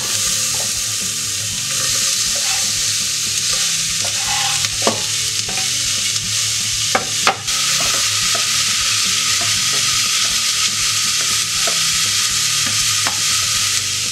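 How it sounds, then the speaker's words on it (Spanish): Chopped onion sizzling in oil in a pot, a steady close frying hiss with occasional stirring scrapes and small pops, no voices. "Ponemos una olla al fuego con un poco de aceite y rehogamos la cebolla"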